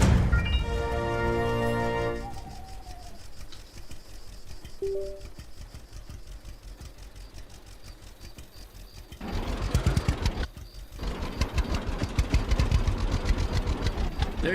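A new tractor in the Farmers Dynasty video game runs its engine with a steady mechanical chatter, fairly close, growing louder and rougher toward the end with a brief clunk partway through.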